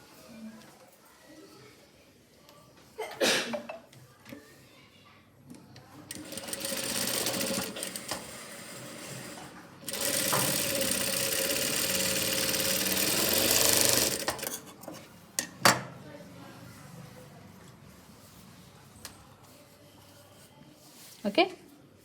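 A sewing machine stitches a blouse, running in two sustained bursts of rapid mechanical whirring between quieter handling noises and clicks, close and fairly loud, with a person talking around the stitching.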